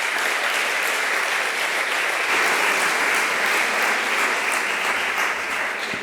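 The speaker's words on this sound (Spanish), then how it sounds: "Un aplauso." Applause from the audience at an entrepreneurship gala held by Deusto with Santander, a loud, dense and unbroken stretch of clapping from a large crowd that holds steady for several seconds.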